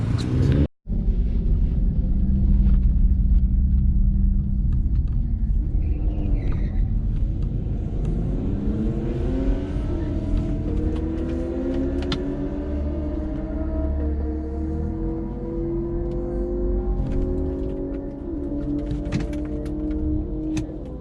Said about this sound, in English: I'm gonna drive the Q50 real quick to see how good I can do it.